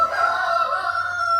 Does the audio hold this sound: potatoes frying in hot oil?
no